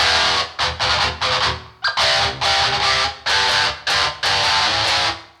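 Heavily distorted electric guitar through a Fortin Kali amp module with the violin switch down and a boost engaged, played as tight, chugging palm-muted riffs with abrupt stops and restarts, loud and close.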